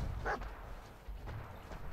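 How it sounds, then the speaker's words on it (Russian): A single dog bark in Fallout 4, sharp and fairly close, followed by quieter rumbling ambience and faint noises. "Собака."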